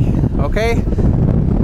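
Strong wind buffets the microphone in a constant low roar at an outdoor concrete slab site after rain, while a person briefly speaks a word partway through.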